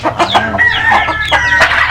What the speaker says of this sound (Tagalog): yung dalawang inahin nagsasabong.